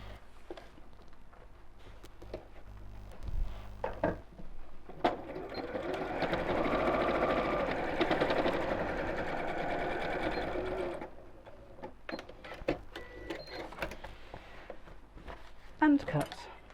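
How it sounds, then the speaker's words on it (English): A sewing machine runs in one sustained burst straight across a tote bag corner, bracketed by brief clicks and handling noise, with someone talking before and after. "And sew straight across."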